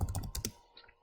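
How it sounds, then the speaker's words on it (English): Fingers type quickly on a computer keyboard: a short burst of close, crisp keystrokes that fades into a couple of softer taps, with no voices. "Watch out for just the typing there."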